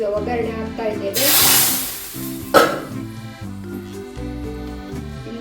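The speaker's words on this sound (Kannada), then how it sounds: "ಈಗ ಒಗ್ಗರಣೆ ಹಾಕ್ತಾ ಇದ್ದೇನೆ." Spices tempering in hot oil for a Karnataka-style egg, potato and tomato curry give a loud burst of sizzling and hissing, surging then fading under background music.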